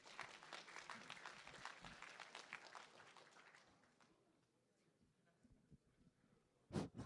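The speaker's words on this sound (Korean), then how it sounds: "네 박수 부탁드리겠습니다." An audience at the ICPC Asia Seoul Regional award ceremony claps, dense applause for about four seconds that fades to scattered claps, then a brief louder burst near the end.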